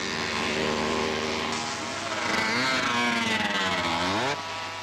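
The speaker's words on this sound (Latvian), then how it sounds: "Motors niķojas" A racing moped engine misfires and sputters mid-race, its buzzing note wavering and dipping unevenly, with other mopeds droning nearby.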